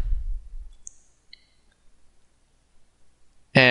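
Computer mouse buttons click a few times in a quiet room, sharp, brief and close, spaced apart, after a short low thump at the start and before a louder chime-like tone at the end.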